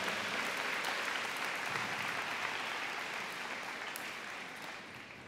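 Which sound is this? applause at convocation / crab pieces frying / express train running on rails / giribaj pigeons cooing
applause at convocation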